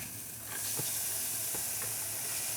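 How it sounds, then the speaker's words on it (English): Vegetables sizzle in a HexClad saucepan with a soft, steady hiss after a brief quieter start, punctuated by a few faint clicks of stirring. "You should still hear a touch of a sizzle"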